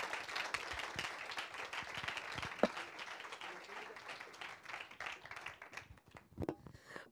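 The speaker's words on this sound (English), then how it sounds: "a big warm round of applause for our speakers" Fairly faint clapping from a conference audience for panel speakers at a sustainability and tech investment event, a thinning round of claps that tapers off with a few scattered hand hits.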